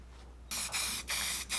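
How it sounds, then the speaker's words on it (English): Spray paint hisses from an aerosol can onto a Game Boy shell in three close, loud bursts separated by short pauses, following a quieter opening. "This paint sprays pretty well at kind of all angles."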